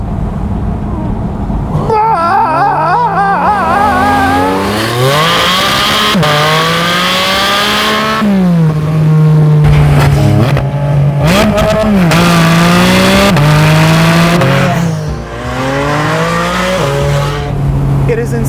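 A Porsche 718 Spyder RS, rated 493 horsepower with a 9,000 RPM redline, revs its engine loudly and close by. Its pitch climbs and falls through repeated high-RPM sweeps with sharp throttle blips, and no one speaks over it.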